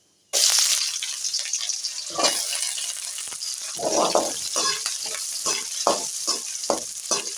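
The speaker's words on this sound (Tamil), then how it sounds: "பொறிஞ்ச உடனே அதில் வெங்காயம் போட்டுக்கிறோம் பொரியலுக்கு" Onions dropped into hot oil for a Tamil mochai (field bean) puli kuzhambu, bursting into a loud, bright sizzle that keeps going, with bursts of stirring and spattering and no talking.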